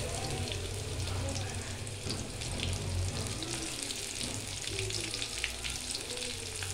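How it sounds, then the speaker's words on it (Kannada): Green chillies frying in a hot pan while rajgira (amaranth) greens palya is cooked, a steady close sizzle with faint stirring and water-like hiss throughout, no talk. "ಇವಾಗ ನಾನು ಮೆಣಸಿನ್ಕಾಯಿ ಹಾಕ್ತಾಯಿದ್ದೀನಿ."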